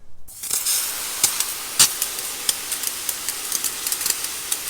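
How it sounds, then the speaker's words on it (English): A strong, steady hiss of pressurized water spraying up close, rinsing a Toyota Camry XSE's wheel rims, with small crackling bursts as the jet hits a surface. "Now we're gonna go ahead and rinse this again to work on the inside of the rims."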